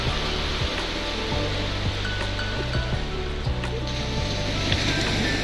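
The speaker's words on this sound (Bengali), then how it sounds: "নির্জন সমুদ্রের এই গর্জন আপনাকে খুবই আকৃষ্ট করবে" Sea waves roar continuously on deserted Tajpur beach, a dense steady wash of surf mixed with wind buffeting the microphone.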